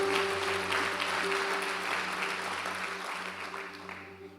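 Congregation applause fills a church service, a steady wash of many hands clapping that slowly fades toward the end, with a faint sustained tone beneath.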